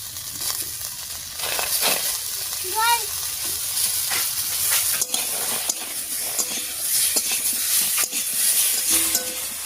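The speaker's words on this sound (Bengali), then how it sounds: "লবণ, হলুদ আর বাটা মশলাটা দিয়ে ঝিঙের সঙ্গে খুব ভালো করে মিশিয়ে নিয়েছি" Ridge gourd fries in a pan with salt, turmeric and ground spice paste while a spoon stirs it. A continuous close sizzle is broken by scraping strokes, with a brief clink and faint background sounds.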